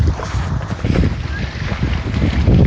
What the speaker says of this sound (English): excuse the noise, there's a lot of waves coming in.